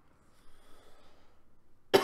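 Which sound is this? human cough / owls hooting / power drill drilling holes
human cough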